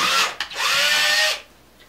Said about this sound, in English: Make sure my drill is going the right way.